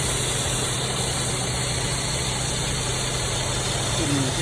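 Mercedes engine rough idling from a vacuum leak, a steady close mechanical drone with hissing and a high whine, constant and loud throughout.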